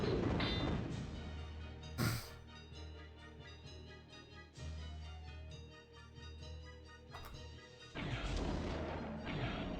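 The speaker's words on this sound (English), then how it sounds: "Oh wow, they explode so easy." Enemies bursting apart in the video game Blood Omen, several heavy booming crashes spaced across the stretch over a continuous music or ambient bed, loud and close.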